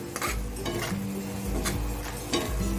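Sev bhaji being stir-fried in a pan, a spatula scraping and clinking against the metal in a steady back-and-forth rhythm over a low sizzle, close and fairly loud, with no talking.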